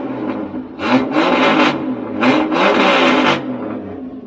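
Jeep XJ engine revved up twice in quick succession, loud and close, rising and falling over a steady idle.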